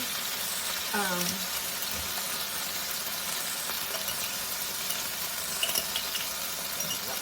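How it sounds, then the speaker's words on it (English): Continuous close sizzling of beans frying in a hot pan, a steady crackling hiss throughout with a brief voice-like tone near the start. "as you can hear them sizzling as they hit the pan"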